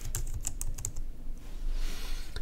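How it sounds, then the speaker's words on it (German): Typing on a Windows computer keyboard, a quick run of close, crisp key clicks in an irregular rhythm, steady and fairly loud with no voices. "und tippen hier Wiederherstellung ein."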